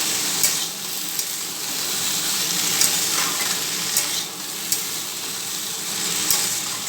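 Chopped onion and chilli fry in a hot pan with a close, steady sizzle, broken by soft stirring scrapes, with no voices.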